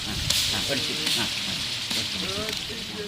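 Masala for a Tamil Nadu style chicken biryani frying with shallots and garlic paste while stirred, a steady close sizzle with spoon scrapes, under a voice.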